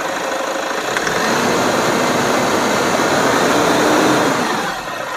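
A Toyota Fortuner engine, freshly overhauled, revs under the accelerator with a steady, loud, close drone that holds through the whole stretch and eases off slightly at the end.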